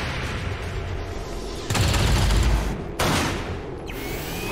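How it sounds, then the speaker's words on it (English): Weapon shots strike Andromedon armor in the video game XCOM 2: two heavy, booming bursts of gunfire rise over a low background hum, each lasting about a second, with a fainter third near the end. "Three shots to take out the Andromedon armor."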